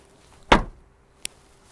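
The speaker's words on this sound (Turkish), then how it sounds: "Arka kapılarımız açılıyor ama kapanırken sanki kapı menteşeye sıkışıyormuş gibi bir ses geliyor." A Nissan Micra rear door with a stiff hinge closes in one loud, near thud, followed by a short, sharp latch click about three-quarters of a second later, with no talking.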